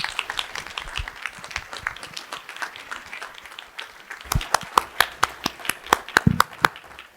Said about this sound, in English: If we could get a round of applause, please,